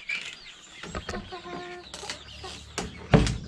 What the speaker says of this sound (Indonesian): Untuk galur betina kita lagi membesarkan ayam merawang.